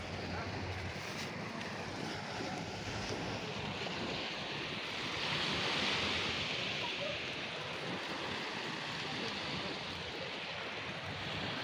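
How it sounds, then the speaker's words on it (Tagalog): Sea waves wash onto a beach near a campsite tent in a steady, continuous surf roar, with wind buffeting the microphone and a slight swell midway. "Ayan ang dagat."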